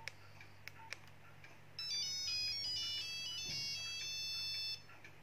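Nokia 5110 phone playing a ringtone: a clear, bright monophonic melody starts after a couple of faint clicks and runs steadily for about three seconds over low background hum, then stops.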